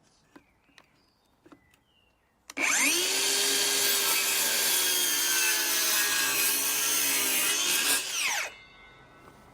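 A DeWalt DCS570N 18V cordless circular saw spins up sharply and cuts through wood for about six seconds, a loud close whine and rasp, then winds down quickly under its brake; faint taps come before it.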